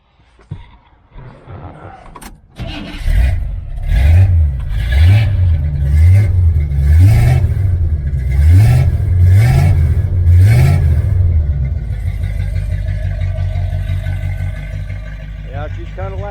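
A 1977 Chevrolet Malibu Classic with headers, an X-pipe and race dual exhaust with single-chamber mufflers revs repeatedly in a steady rhythm of loud, deep blips, then settles into a rumbling idle.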